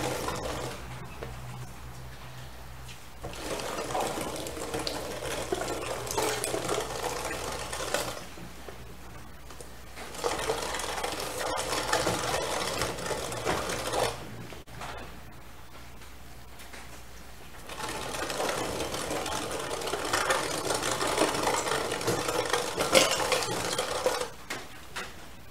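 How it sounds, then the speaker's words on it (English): An LEM #32 electric meat grinder chews through large pork chunks on a coarse plate, its steady motor whir rising into three long grinding stretches separated by brief quieter pauses. "I've got this pork cut into pretty large chunks, and the grinder doesn't have any problem just digesting it right up"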